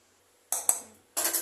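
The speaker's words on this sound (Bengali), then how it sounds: "গুড়টা এখন ভালো করে স্ট্রেন করে নেওয়া হচ্ছে।" Metal clinks and scrapes of a strainer and utensils as melted jaggery is strained for a jujube pickle, a few sharp clattering hits separated by brief pauses.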